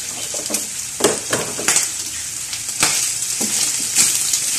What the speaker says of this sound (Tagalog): Kasi piprituhin lang natin to